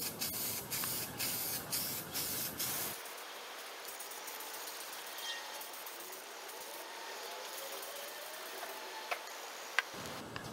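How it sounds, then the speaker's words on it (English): An aerosol spray can tints foglights yellow: a rapid series of rattling ticks at first, then a sustained close hiss of spray for about seven seconds, ending with a few clicks. "we're gonna spray around and apply two coats"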